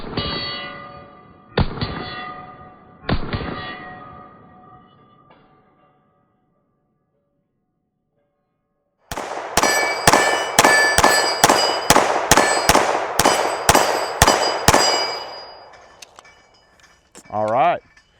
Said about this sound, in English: I'll just put a few rounds down range here.